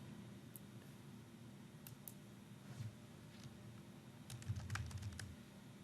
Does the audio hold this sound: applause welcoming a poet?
no